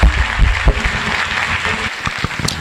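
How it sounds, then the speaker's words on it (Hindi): A seminar audience in a hall gives a short round of clapping to welcome the next speaker, moderately loud and uneven, with a few thuds and faint murmur underneath. "अभी आप लोग थोड़ा क्लैप करिए और प्रतिमा जी को यहां बुलाइए एक बढ़िया ताली से"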